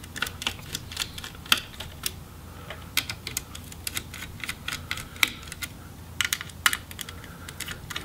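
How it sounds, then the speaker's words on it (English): Small screws being backed out of the heatsink inside an Acer Aspire V17 Nitro laptop, a string of light, sharp metallic clicks and ticks scattered irregularly at close range with no talking. "And then remove the 6 screws for the heatsink."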